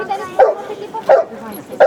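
Dogs bark in short, repeated bursts, about three sharp barks spaced roughly evenly, near and fairly loud, at an outdoor dog training demonstration at a fête in Saint-Cado, with faint background noise between barks.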